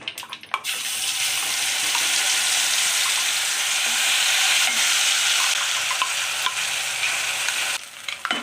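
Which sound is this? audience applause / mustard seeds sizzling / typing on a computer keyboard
mustard seeds sizzling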